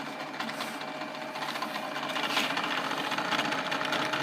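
A drill bores a second blind hole into wood held in a jig, a steady high-pitched whirring hum that grows slightly louder partway through, close and continuous, with no talk.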